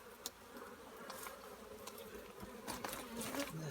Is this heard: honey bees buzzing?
yes